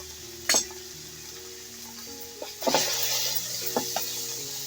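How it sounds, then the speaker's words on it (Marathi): Homemade black garam masala frying in oil in a pan sizzles steadily and close, with a few sharp scrapes and clinks from stirring, and no voices. "भाजून राहिलेला आहे मसाला आणि त्याला तेलही सुटलेलं आहे"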